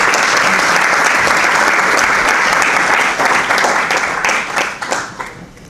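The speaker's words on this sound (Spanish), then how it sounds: "Un aplauso, por favor." Dense, loud audience applause fills a lecture hall at an association talk on the Milky Way as natural heritage, holding steady before thinning and tapering off near the end.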